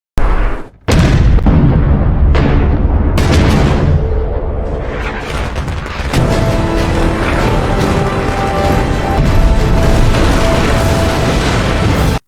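Loud, heavy booms of cannon fire and explosions as ships are destroyed in a Korea–Japan naval battle, then a sustained roar of crashing and destruction that fills the whole stretch without pause.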